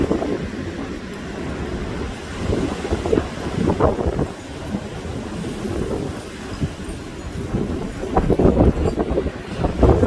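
Strong storm wind gusting in loud, rough surges, buffeting close to the microphone with a heavy rumbling roar that swells around the middle and again near the end.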